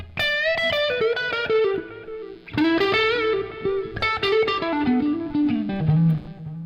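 Electric guitar lead in a Dorian-mode, Gilmour-style line played through a delay effect, sustained bent notes ringing with echoing repeats that fill the gaps between phrases, loud and continuous with no voices.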